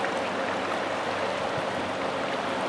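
Floodwater from a swollen river rushes past a town courthouse in a steady, dense, continuous roar that fills the whole scene without a break.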